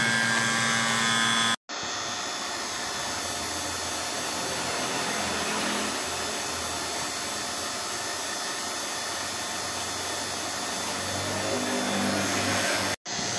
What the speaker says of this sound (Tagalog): So magbabacuum na tayo gamit itong ating heavy duty na vacuum pump.